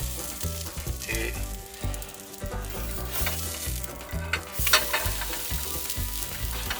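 Vegan pancake batter sizzles and crackles steadily in a hot pan, a close, continuous frying hiss with occasional scraping as the pancake is worked around its edges; a few faint tonal musical notes run underneath.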